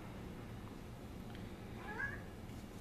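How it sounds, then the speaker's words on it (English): A pet cat begging for cheese in a kitchen lets out a single short, faint meow in the background, with quiet room noise around it. "That's my cat again. He's begging for cheese."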